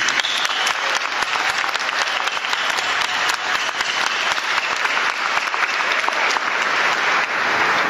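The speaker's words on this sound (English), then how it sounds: "Please join me in giving a round of applause to our new graduates and to recognize their great achievements." Convocation audience applauding new graduates at a CGA-BC accounting graduation ceremony, loud, sustained clapping from a large crowd that fills the room evenly from start to finish.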